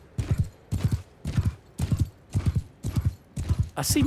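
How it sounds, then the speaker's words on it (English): Horse hooves clip-clopping in the Mount & Blade II Bannerlord video game, a steady galloping rhythm of close, loud hoofbeats in regular bursts, ending with a brief high burst. "That's just a horse."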